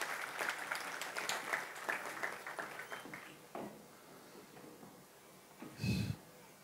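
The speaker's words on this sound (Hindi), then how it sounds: "बाकी लोग तालियों के साथ उनका स्वागत करें।" A church congregation applauding to welcome first-time visitors, a burst of clapping that thins and fades over several seconds, followed by a short breathy noise near the end.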